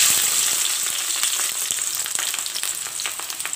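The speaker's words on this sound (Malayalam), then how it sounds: "ഇത് നന്നായിട്ടൊന്ന് വഴറ്റിയെടുക്കാം." Two medium onions and two green chillies sauté in hot coconut oil for a Kerala yam roast, giving a continuous bright sizzle with rapid spitting crackles, close and steady, with no voices.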